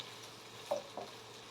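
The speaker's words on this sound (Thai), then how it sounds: "เราก็เอาเต้าหู้ลงไปทอดเลยค่ะ" Tofu frying in hot oil in a pan over medium to low heat gives a steady, soft, close sizzling hiss, broken by a couple of small pops.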